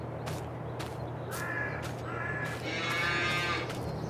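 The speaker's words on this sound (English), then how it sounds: "All right, so we've got 6 cows in here and nothing else." Cattle in a Farming Simulator 22 dairy barn on an Ohio farm map, six cows lowing in several drawn-out moos over a steady low ambient hum, with a couple of higher cries breaking in near the end.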